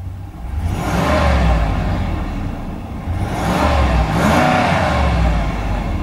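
The 6.4-litre V8 of a 2016 Ram 2500 Lone Star pickup revs twice, each rise a loud, throaty roar that swells and falls back to a rumbling idle.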